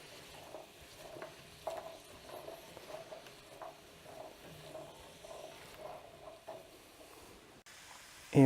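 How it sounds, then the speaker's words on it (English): Garlic and thyme leaves are stirred around a sauteing pot for a chicken and wild rice soup, giving faint, rhythmic scrapes and soft sizzling in quick repeated strokes, with a louder clatter right at the end. "you just want to stir this around a bit to incorporate everything evenly"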